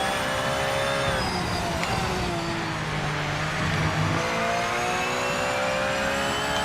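A Porsche 992 race car engine in a racing game on a wet Monza track drones and revs steadily, with a continuous mid-pitched whine and rumble rising and falling through gear changes.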